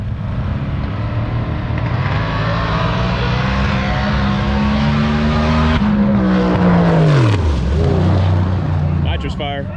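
A green Mazda RX-7 drag car roars down the strip at a Sick Week drag race, its loud engine note climbing steadily, then dropping sharply as the driver lifts, with crowd voices underneath.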